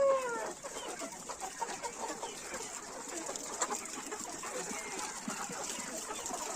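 A free-range flock of Lohmann Brown chickens clucking and murmuring together, continuous overlapping calls at moderate distance, with one louder squawk at the start.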